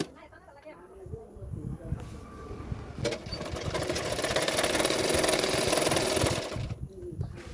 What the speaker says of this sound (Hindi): इस तरह से पीछे की तरफ फोल्ड करते हुए सिलाई करूंगी।